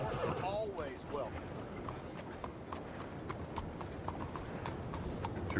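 Clip-clop of horse hooves and a horse's whinny inside a stable in the video game Red Dead Redemption 2, with steady hoof steps throughout over a busy ambient bed and voices talking.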